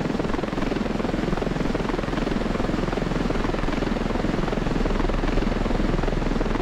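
A helicopter in the video game Ravenfield drones steadily and loudly throughout, a dense, continuous rotor and engine roar with no pauses and no talk over it.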